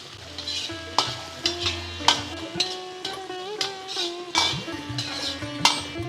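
Drumsticks (moringa pods) fry in a pan for sambar, a steady sizzle broken by repeated scraping stirs of a spoon against the pan, up close and without speech.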